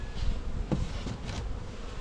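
Honey bees in a beehive buzz in a dense, close, continuous hum, with a few louder individual buzzes rising briefly above the swarm.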